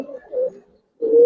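Giribaz highflyer pigeons coo in a couple of soft, close bursts separated by a short pause.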